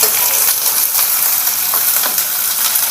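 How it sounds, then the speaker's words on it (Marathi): Onion sizzling steadily in hot oil in a pan with curry leaves over a high gas flame, a dense continuous fry with faint crackles and no talk. "कांदा इथं आपला चांगल्यापैकी फ्राय होतोय"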